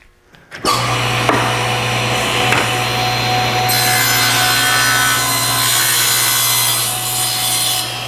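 A table saw cross-cuts a wooden board, a loud steady whine that starts abruptly after a short spin-up and holds evenly for several seconds, with a constant motor drone beneath and no talking.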